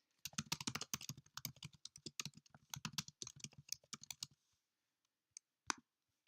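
Rapid bursts of typing on a computer keyboard, close and crisp, with dense clicking for about four seconds, then a pause and a few isolated key taps, no talking.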